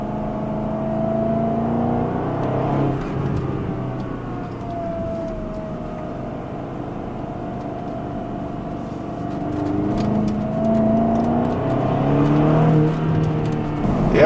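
A stock 2011 BMW X5 M engine pulls hard in second gear, its loud, steady roar rising and falling with rpm inside the cabin, with a brief dip mid-pull before climbing again.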